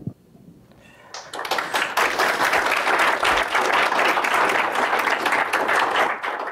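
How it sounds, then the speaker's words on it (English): Conference audience breaks into loud, sustained applause after a faint opening, dense clapping filling the room steadily to the end. "Wow, all this applause, and I haven't even said anything yet."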